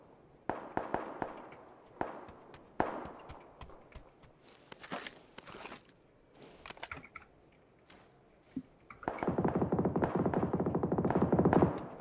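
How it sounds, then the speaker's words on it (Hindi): Gunfire in the PC game PUBG sounds as scattered sharp cracks and short bursts of shots. A steady rumbling noise takes over near the end. "गोलीबारी की आवाज।"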